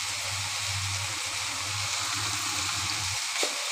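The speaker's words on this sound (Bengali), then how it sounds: "এইবার সব মশলার সাথে ভালো করে লাউ আর আলুটাকে ভালো করে কষিয়ে নিতে হবে।" Bottle gourd and potato sautéing with spices in a pan, a steady soft sizzle and hiss of frying that carries on evenly throughout, quiet and close with no talking.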